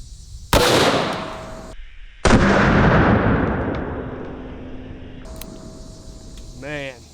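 Two deafening shots from a .500 Magnum revolver loaded with Underwood Extreme Penetrator rounds, each a sharp blast followed by a long rolling echo, with a brief voice near the end.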